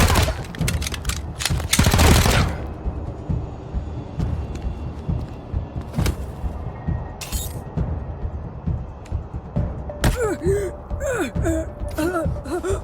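Gunfire in the Wasteland 3 video game: a burst of loud shots near the start, then scattered sharper reports over a busy game backdrop, with voices speaking briefly toward the end.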